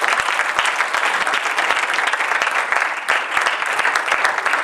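An audience at an evening church seminar applauds loudly and steadily, dense clapping from many hands that fills the room with only a brief dip near the middle.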